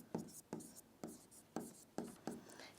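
A pen scratches out chemistry notes by hand in a short series of regular strokes, about six firm bursts at an even rhythm, close and fairly quiet.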